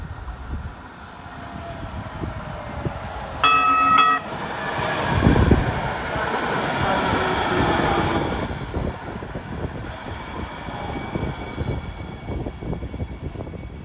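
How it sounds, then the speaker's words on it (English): A New Jersey Transit Hudson Bergen light rail train rolls toward a 2nd Street stop, a low rumbling approach with a brief bell or horn tone, rising wheel noise and a thin high squeal of wheels on rail. "Here comes a West Side Avenue bound train"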